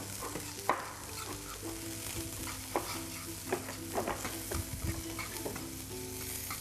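A wooden spoon stirs and scrapes food in a hot frying pan, with scattered scraping knocks over a soft, continuous sizzle and no talking.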